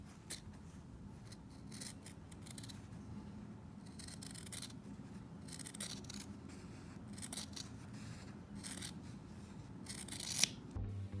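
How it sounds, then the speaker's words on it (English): Scissors cutting fabric while sewing a cloth face mask, with repeated close rasping snips and rustling cloth, a sharper click near the end, and no talking. "And we break once more for some sewing ASMR."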